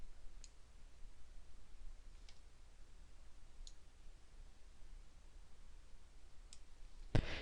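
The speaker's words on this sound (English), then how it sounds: "Now bring your mouse down to the bottom and click More Options." A computer mouse clicks a handful of times, faint and sparse, with single clicks spaced seconds apart over quiet room hiss and no talk.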